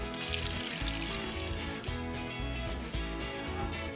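Water streams steadily from an open ball-valve tap during plumbing repair work, a faint, continuous hiss and splash with no voices.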